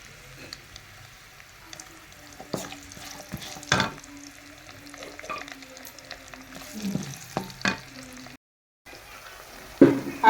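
Onions frying quietly in a pan for aloo-mutton kofta, with a soft sizzle broken by scattered scraping clicks and knocks as a spoon stirs them.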